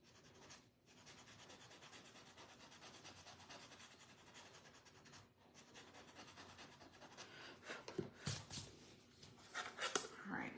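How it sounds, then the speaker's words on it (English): A wooden tiered tray, a coastal-style decor piece, is sanded by hand with the corner of a sheet of sandpaper, making quiet steady rubbing and scratching that turns louder and more broken toward the end, with a voice talking over it. "And I'm just kind of using the corner of my sandpaper."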